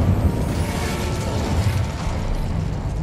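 Incendio fire spell cast in the Hogwarts Legacy video game, a loud, dense roaring whoosh of flame with crackling bursts that holds steady for the full three seconds, with no talk.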